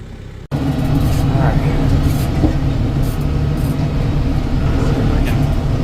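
Loud steady diesel drone of a Kubota M7060 tractor powering a Landpride RCF3010 brush hog cutting through brush, starting abruptly after a brief quieter moment, with a few faint scrapes over the constant rumble.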